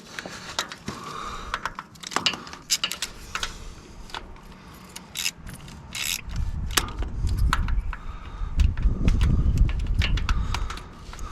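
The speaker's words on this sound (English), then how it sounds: "I just used the extension in the socket and brought that bolt out." Metal tools clicking and scraping while a starter bolt is worked out of a New Holland tractor using a socket wrench on an extension, with sharp close ticks and clanks throughout and a louder rumbling scrape in the last few seconds.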